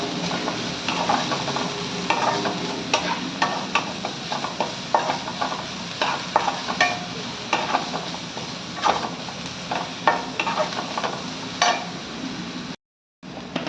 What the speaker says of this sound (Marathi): छान 1 ते 2 मिनटं परतून घ्यायच्यात आपल्याला भाज्या.